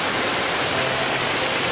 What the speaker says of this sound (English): So I came to the waterfalls